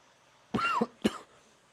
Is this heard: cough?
yes